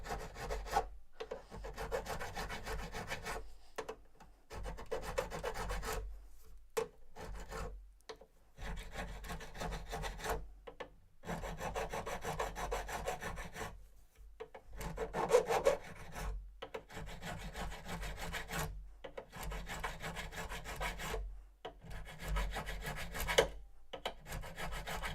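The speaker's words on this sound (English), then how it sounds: "This one I am pushing a lot harder than I was with the leveling file." A hand file rasps in firm repeated strokes, each stroke a gritty scrape broken by short pauses, steady and close with no talk.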